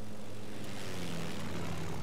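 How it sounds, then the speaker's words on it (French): Reconnaissance propeller airplane from the World War II strategy game Company of Heroes, droning steadily overhead at moderate distance with a continuous engine hum and no talking. "Avion de reconnaissance, faut attendre qu'il passe."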